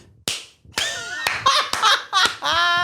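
A clownish character claps while stepping into a cave, a few sharp slaps at the start giving way to loud, fuller sounds with what may be maniacal laughter layered over them.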